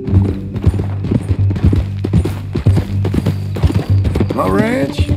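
Horse hooves clip-clop at a steady walking rhythm in the Red Dead Redemption 2 game, close and clear, with a low voice talking over the hoofbeats and a brief whinny near the end.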